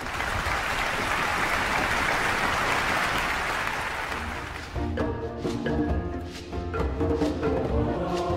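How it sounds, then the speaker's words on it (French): A studio audience at a French TV talk show breaks into loud, dense applause that holds steady for several seconds before thinning out, as piano and percussion music begins to play underneath. "je vous demande d'applaudir, John Yale."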